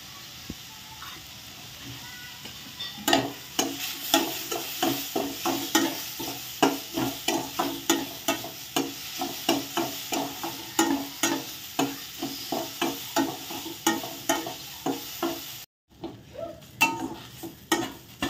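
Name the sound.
carrots and beans stir-frying in a pan with turmeric and salt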